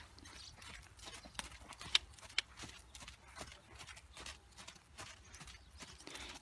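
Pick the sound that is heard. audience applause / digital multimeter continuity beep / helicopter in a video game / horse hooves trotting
horse hooves trotting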